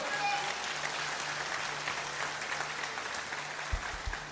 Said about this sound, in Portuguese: Vamos aplaudir isso, irmão.